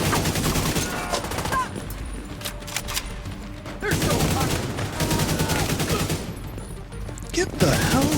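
Shock-round gunfire in The Division 2 video game comes in dense, loud volleys with short pauses between bursts, clattering and crackling close by while a player speaks briefly in between.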